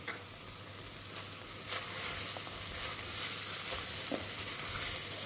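Chopped coriander and paneer sauté in a hot pan for peas and paneer pulao, a steady close sizzle with occasional faint stirring taps and no talking.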